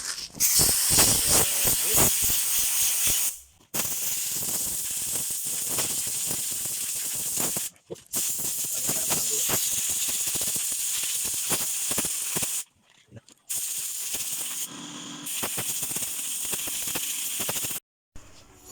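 Compressed air blasts dust out of an aircon filter with a loud, close, steady hiss. The burst comes in long stretches broken by several short pauses.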